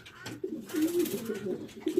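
Racing pigeons cooing close by in a loft, a low throaty burbling coo that swells and repeats through the clip, with faint talk in the background.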